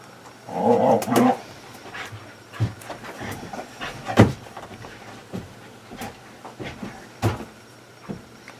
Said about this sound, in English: She's a very odd dog.